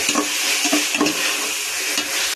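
Ginger garlic paste sizzles and fries in a pan for a pepper chicken gravy, with a steady bright hiss and a few distinct scraping stirs of a spoon, close and unaccompanied.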